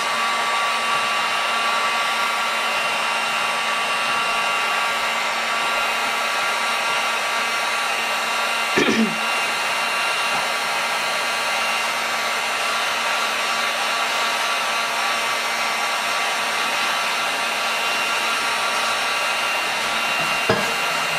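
Heat tool blowing steadily while melting embossing powder into embossing ink on a mixed media piece, a close, constant whirring hum with a couple of brief knocks.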